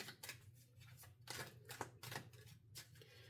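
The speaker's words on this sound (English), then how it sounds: "One more shuffle with that one." A deck of chakra oracle cards is shuffled by hand, several quick riffling bursts with short pauses between them over a faint steady hum, close and fairly quiet.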